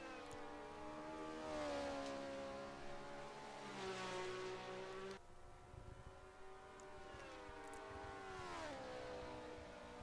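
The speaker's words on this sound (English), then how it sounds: "You hear the engine tones as they shoot past you." 1967 Formula 1 race car engines in a sim racing game at the Highlands circuit, several high-pitched engine tones screaming past in turn with falling pitch sweeps, steady and fairly loud.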